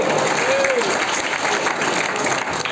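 An audience at a village poetry recital in Kanker claps in a brief, dense burst of applause, continuous and moderately loud throughout.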